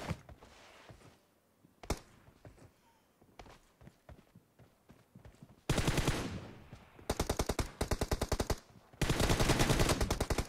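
Automatic gunfire from a 1v1 team deathmatch video game fight: quieter scattered shots and footsteps at first, then loud, rapid sustained bursts with short pauses between them.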